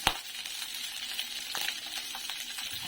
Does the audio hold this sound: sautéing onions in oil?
yes